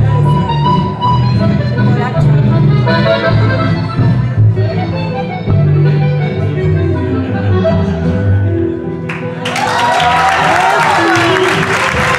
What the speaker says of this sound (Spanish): Lucas Melissa, por favor, a recibir el aplauso